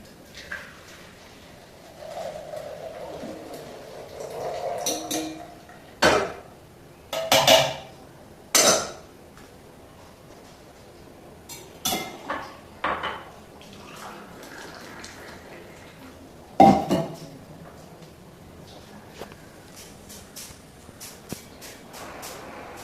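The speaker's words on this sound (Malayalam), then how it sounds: "അങ്ങനെ ചായ തിളച്ച് നമുക്കൊരു പാത്രത്തിലേക്ക് മാറ്റാം" Freshly boiled tea transferred from the pan into another vessel in a home kitchen: intermittent splashy pouring bursts and sharp metal clanks of pots and utensils, separated by quieter gaps.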